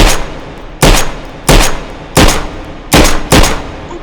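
An M1 Garand rifle fires in the virtual-reality shooting game H3VR: six sharp, loud, close gunshots at uneven spacing, each with a brief tail and no talk.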